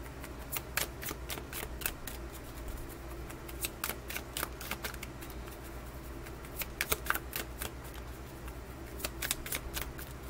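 A deck of tarot cards being shuffled by hand, with repeated crisp riffling bursts and flicks in an irregular rhythm, close and clear, with no talking over it.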